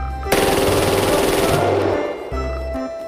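A toy MP9 gun fires a loud, continuous rapid burst of electronic machine-gun effects for about two seconds, followed by a shorter tonal electronic beep pattern.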